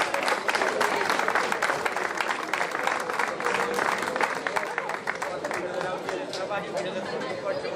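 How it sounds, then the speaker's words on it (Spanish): Applause and crowd chatter from an audience at the podium ceremony of the IV Subida a Taboadela 2023 motor race, with sustained clapping under mixed voices. "Aplauso grande, por favor."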